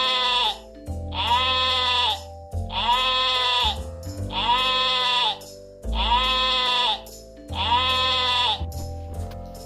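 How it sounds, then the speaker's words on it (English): A sheep bleats six times in a row, loud and close, each call a drawn-out wavering cry separated by short pauses. "This is a sheep."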